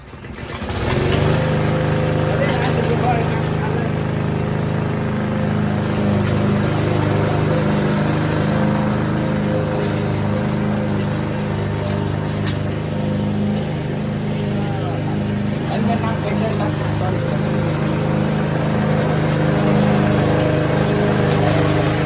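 A grass cutter's small engine runs steadily and close by for the whole stretch, a continuous droning hum with slight wavering in pitch, while voices talk over it.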